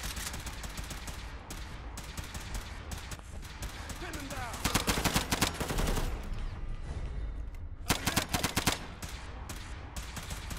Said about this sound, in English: The person who's shooting must be using the French gun